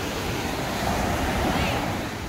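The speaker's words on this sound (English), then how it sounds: "The sea pushing all that sand all the way up here." High-tide sea waves wash over a sand-covered beach walkway in Thailand, a loud, steady roar of surf and wind rushing close to the microphone, with no speech.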